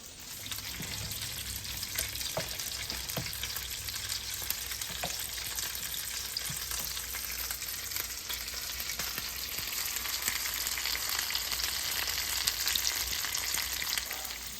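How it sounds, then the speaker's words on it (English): Breaded chicken cutlets fry in oil in a pan, giving a steady, soft crackling sizzle throughout with scattered sharper pops and faint clicks. "I've got the next 2 cutlets here all breaded and ready to fry up"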